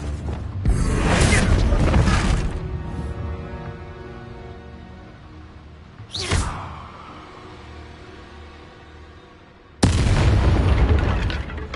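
A Descendo spell goes off in a video game, heard as loud close booming blasts: a long roaring burst near the start, a short sharp crack around the middle, and another heavy blast at the end, with no talk.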